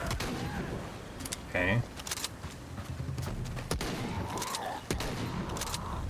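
Several crisp gunshots in Shadow of the Tomb Raider crack out in scattered succession amid game ambience and footsteps, while someone briefly says a word.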